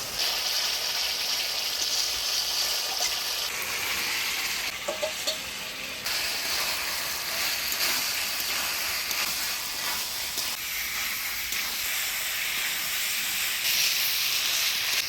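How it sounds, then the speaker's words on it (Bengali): Fried potatoes and pointed gourd sizzle and crackle steadily in oily spice paste while being stirred, a continuous close frying hiss with no talking. "মশলার সাথে ভাজে রাখা আলু পটল দিয়ে ভালো করে কষিয়ে নিলাম"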